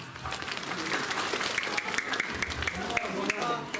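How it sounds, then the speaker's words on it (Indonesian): Audience applause at an Islamic religious lecture in Sadeng, Bogor, a steady burst of clapping from a gathered crowd that carries through the whole moment, with talk mixed in underneath. "Kasih apresiasi buat Bapak Dewan, kasih tepuk tangan."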